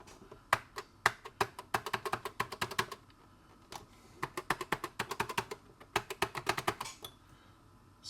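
Keys being tested on a dk'tronics add-on keyboard for the ZX Spectrum, clacking in two quick irregular bursts of close, crisp presses separated by a short pause, with no talking.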